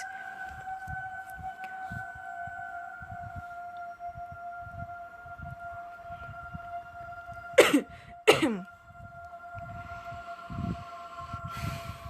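Two quick coughs in a row sound close and loud over a steady humming drone and soft background murmur.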